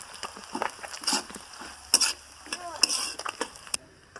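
Cumin and chili paste hits hot oil in a pan for a pumpkin curry, sizzling while a utensil stirs and scrapes in quick irregular strokes, close and clear.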